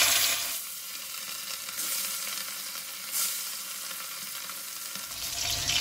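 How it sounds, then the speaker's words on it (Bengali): Pieces of katla fish fry in hot, smoking mustard oil, a loud continuous sizzle that swells as more pieces go in. "এবার আমি মাছগুলোকে অল্প অল্প করে মাছ দিয়ে ভেজে তুলে নেব।"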